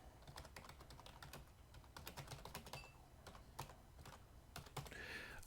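Faint, quick keystrokes on a computer keyboard as a description is typed, a steady patter of clicks with no talk.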